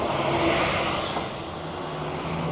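A bus passing on a road in Los Agaves, a loud, close rumble of a heavy engine that swells and then eases as it goes by, with no talk.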